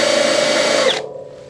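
A power drill fitted with a spot weld cutter whines loudly and steadily as it cuts into a fender panel on a hot rod Willys, then spins down and cuts off near the end.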